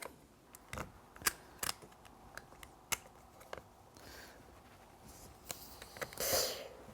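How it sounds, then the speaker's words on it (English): A lawn mower tire's rubber valve stem is cut off with a cutting tool: a series of sharp, separate snips and clicks, close and fairly quiet, ending in a brief rustle. "since I'm not going to reuse this valve stem, I'm going to just cut it off. Just cut it right out."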